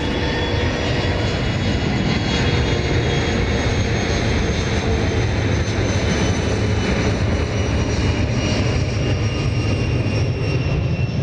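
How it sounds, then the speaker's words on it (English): A Bombardier Challenger 605 business jet at Dallas Love Field roars loud and close. Its jet engines make a sustained, steady broadband rumble with thin whining tones running through it, and no voices are heard. "That was Bombardier Challenger"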